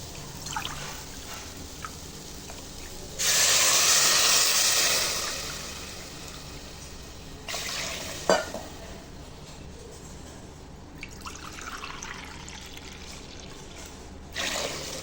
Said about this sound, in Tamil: இப்போ அதில் நம்ம 3 கப் தண்ணி சேர்த்துக்கிறோம்